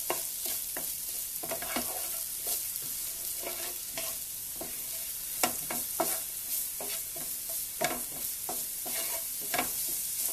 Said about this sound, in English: So what are you getting ready to stir fry now